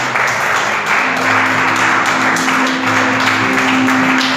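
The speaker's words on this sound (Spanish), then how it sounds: "Puedes hacerlo con aplausos, Señor." Church congregation applauding during a Spanish-language sermon, a steady wash of many hands clapping together for several seconds, with a faint sustained tone or hum running beneath.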